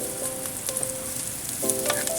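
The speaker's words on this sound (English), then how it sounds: "Then stir fry a little bit." Red peppers and celery stir fry in a hot pan, giving a steady close sizzle with faint scraping and stirring clatter throughout, and no talking.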